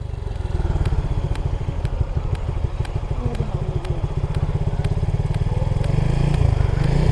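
A motorcycle ridden up toward the Mirinja Valley summit, carrying an older experienced rider, runs with a loud, steady pulsing engine drone throughout, rising slightly near the end.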